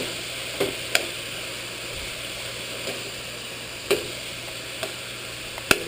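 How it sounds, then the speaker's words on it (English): Ground beef frying in a pan for giniling na baka, a steady close sizzle with a few sharp clicks and taps of a spoon stirring against the pan. "Our ground beef. Let's stir that for just a minute here."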